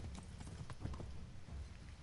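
Horse hooves clip-clop in a quick, uneven rhythm as a rider zigzags on horseback in Kingdom Come: Deliverance, the steps close and fairly faint over a low rumbling background.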